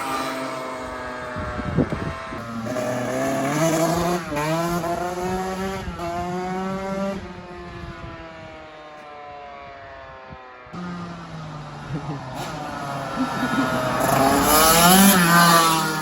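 A 2007 KTM 85SX two-stroke dirt bike ridden hard, its high-pitched engine wailing and revving up and down through repeated rising sweeps, with a brief drop-off before climbing loud again.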